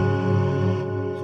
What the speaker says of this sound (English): This is the sound of my poly hook.